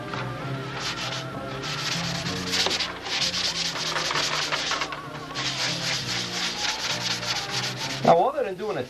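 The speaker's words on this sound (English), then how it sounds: "we're going to sand the rest of this out dry" Dry sanding of model airplane parts for a Brodak Cardinal control-line kit, a steady, continuous abrasive rubbing with rhythmic back-and-forth strokes, close and fairly loud, with a brief pause midway and a short handling noise at the end.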